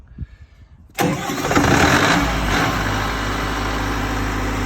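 A diesel generator station engine cranks and fires after a second of near-quiet clicks, then settles into a loud, steady low idle that continues alone to the end.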